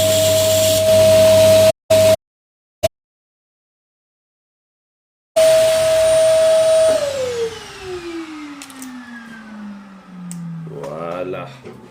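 A bench grinding machine works a knife blade, a loud steady whine with a high tone that cuts out in bursts, then restarts and winds down in pitch, with a person speaking near the end.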